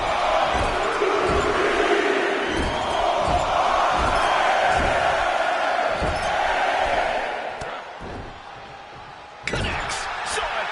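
A wrestling crowd in the WWE 2K25 game roars as a constant background swell, with thudding ring impacts at a steady beat. The crowd dips briefly near the end, then one sharp hit brings it back up.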